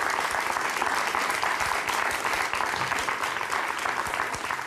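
A packed audience in Prague's Lucerna hall claps eagerly, dense and sustained applause filling the room at fairly loud, even level without any speech.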